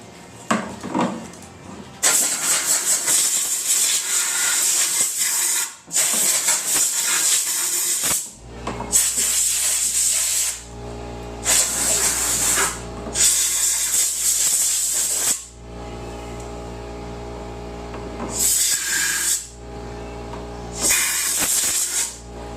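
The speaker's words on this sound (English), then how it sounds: "I'm going to take my air hose and I'm going to blow it out and make sure that it doesn't have any dirt in it" Compressed air hose blasts in repeated loud bursts while dirt is blown out of the airbox of a 1997 Ski-Doo Summit snowmobile, several hissing rushes separated by short pauses, close to the listener with no talking.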